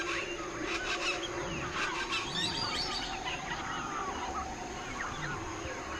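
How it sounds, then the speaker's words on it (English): Dense wild chorus of birds, frogs and insects in a highly biodiverse natural region: scattered chirps and calls over a steady, continuous hum, fairly close and with no talking. "The spectacular concert that the birds, amphibians, and insects create together in the regions with the greatest biodiversity on the planet"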